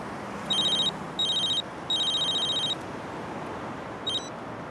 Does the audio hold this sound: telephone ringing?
yes